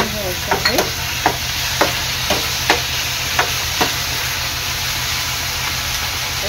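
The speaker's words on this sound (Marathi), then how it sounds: "आता ह्यामध्ये टाकणार आहे मी ग्रीन चिली सॉस. मिक्स करून घ्यायचं आहे." Prawns chilli stirred with green chili sauce in a hot pan, a steady sizzle under regular scraping strokes of the spoon that come roughly every half second, close and clear, without talk.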